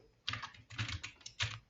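Java code being typed on a computer keyboard, a few short bursts of clicky keystrokes, close and clear with brief pauses between them.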